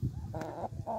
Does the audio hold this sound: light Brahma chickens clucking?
yes